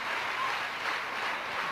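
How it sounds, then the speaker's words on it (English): At the 1991 India vs Pakistan Sharjah Cup final, a cricket crowd claps for Manjrekar in a short, steady burst of dense applause with no voices. "Fine applause for Manjrekar."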